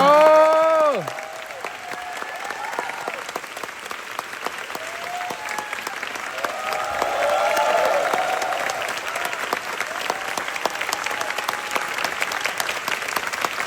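An audience at the final curtain call of a Hong Kong musical applauds the music director, with a brief voice at the start and then sustained, dense clapping that swells midway and keeps going.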